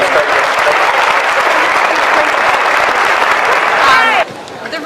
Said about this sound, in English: Give Heidi and Taya a great round of applause